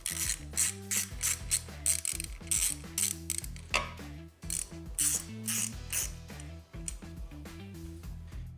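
Rapid ratchet clicks sound up close while motorcycle handlebar parts are loosened, the pawl ticking in quick bursts separated by short pauses, with no voices.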